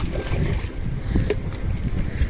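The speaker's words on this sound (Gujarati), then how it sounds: "પવન એવડો મોટો છે કે હું બોલું છું એમાંય તો થોડો ઘણો અવાજ આવતો હોય છે પવનનો" Strong outdoor wind buffets the microphone in a continuous low rumble with gusty swells, loud and close throughout, with no voice.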